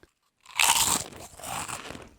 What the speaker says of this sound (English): Somebody's chewing something, and I hate it.